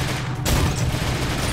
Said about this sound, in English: what is that artillery?